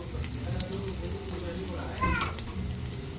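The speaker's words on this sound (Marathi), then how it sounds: "गरमागरम मिरच्या शालो फ्राय करून घेतल्या" Stuffed green chillies shallow frying in hot oil in a pan give a steady close sizzle, with a brief louder spatter of crackling toward the end.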